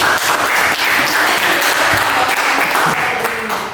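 A classroom audience claps for a student, steady dense applause filling the room from start to finish and tapering slightly at the end.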